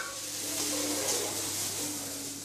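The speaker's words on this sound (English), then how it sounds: "the pan flames, and the kitchen is fumy with the fragrance of thyme and seasoning and mushroom and game meat sizzling on the stove" A soft, steady sizzle of game meat frying in a pan with mushroom, thyme and seasoning, with a faint low hum beneath.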